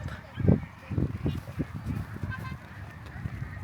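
Ducks at a duck farm stop in Hoi An quack in a loose run of honks at moderate distance, with people talking over them.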